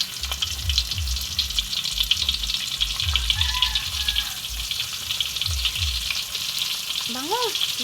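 Daing, dried fish, frying in a pan: a continuous close sizzle and crackle with bursts of hissing spatter, plus rhythmic low scraping as it is stirred, no talking.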